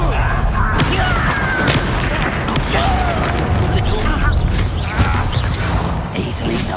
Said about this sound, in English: Bombarder!